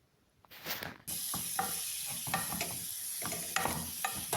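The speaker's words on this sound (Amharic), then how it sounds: "ከዛ ስጋዬን ጨምሬ በዚህ መልኩ በደረቁ ጠበስኩት።" Lean meat dry-frying in a hot pan starts with a sudden loud sizzle after a short rustle, then a continuous hiss broken by repeated stirring scrapes and clatters.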